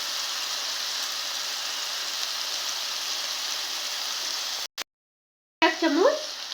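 Ground spice paste fries in a pan with a steady, soft sizzle for several seconds, then cuts out briefly before a stir resumes with a short scraping sound.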